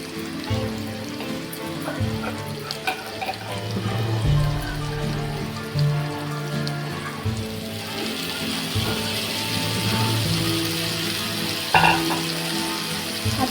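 Oil sizzles and crackles steadily in a hot pan, the hiss swelling louder partway through as a little water hits the surface, with faint clinks of utensils.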